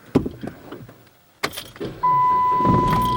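The engine of a 2007 Dodge Caliber turns over after faint clicks and rustling in the cabin. It catches abruptly and settles into a steady, loud idle with a thin whine on top.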